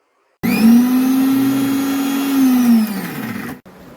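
A mixer grinder grinds masala paste for an egg curry, its motor starting abruptly into a loud, steady whine that holds for about three seconds before winding down and cutting off.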